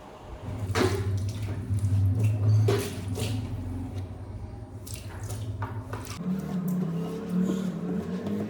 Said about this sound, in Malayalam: അപ്പോഴത്തേക്ക് ഞാൻ പാത്രം കഴുകുകയൊക്കെയാണ്